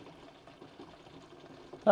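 Old diesel fuel drains from a Fuso FG truck's tank into a funnel, a soft continuous trickle and pour with a louder splash at the end, heard up close at a low level.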